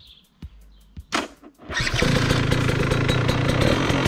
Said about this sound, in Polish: Ale odpala pięknie.